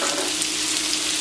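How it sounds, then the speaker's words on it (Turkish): Two small chopped shallots sizzle in a frying pan for tomato pasta sauce, a steady close hiss of frying that runs evenly throughout with no talk. "Şöyle doğradığım 2 tane küçük kuru soğan ekleyeceğim."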